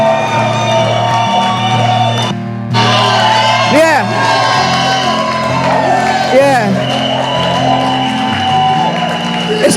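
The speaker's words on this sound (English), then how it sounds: "Let me hear you make some mad noise for the word." A church audience shouts and whoops in a loud, sustained burst of cheering, with rising whoops standing out above the roar and a single voice calling out briefly.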